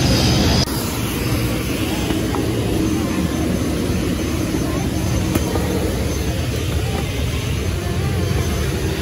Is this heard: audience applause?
no